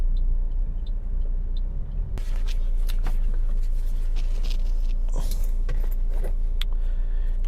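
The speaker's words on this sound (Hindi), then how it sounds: "लाहौर में बहुत ज़्यादा ट्रैफिक होने लग गई है" Busy road traffic in Lahore: a steady, loud rumble of engines and passing vehicles, with scattered clatters and horn-like bursts over a continuous near-field roar.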